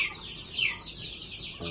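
A turkey hen sitting on her eggs gives a few soft, high clucks and chirps, faint and close, with a low rustle near the end.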